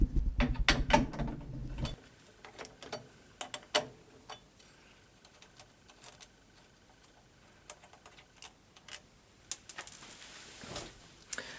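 A 14 mm wrench loosens the crank nut on a 1980s Peugeot Aubisque bicycle, starting with a dense metallic rattle of ratcheting, then scattered close clicks and taps of metal on metal with quiet gaps.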